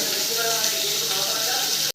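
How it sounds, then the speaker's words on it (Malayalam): Fish frying in hot oil over a high flame, a loud dense continuous sizzle and hiss close by that cuts off abruptly near the end. "മീൻ പൊരിക്കുമ്പോൾ ആദ്യം നമ്മൾ ഇത്തിരി നല്ല തീ നന്നായി കൂട്ടി വെക്കണം."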